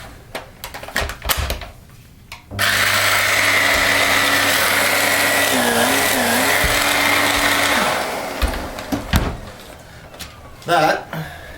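Electrolux Ultra One powerhead vacuum brush running after a belt repair, a loud steady motor whine and brush drone that starts abruptly, holds for about five seconds and then cuts off, with handling noises before and after.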